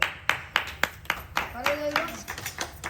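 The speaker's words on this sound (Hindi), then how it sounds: "ताली बजा दो।" Sharp hand claps ring out in a steady rhythm, then blur into a looser patter of clapping while a voice sings over it.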